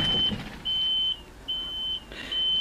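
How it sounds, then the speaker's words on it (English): An electronic alarm beeps in a steady repeating pattern, four long high tones evenly spaced over a low background hum, fairly loud and near. "I can make that alarm go away"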